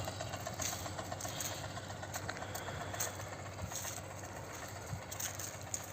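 A farm tractor with a mounted crop sprayer runs in a field, a steady mid-pitched engine drone with a hissing spray and faint rattles, heard from a modest distance.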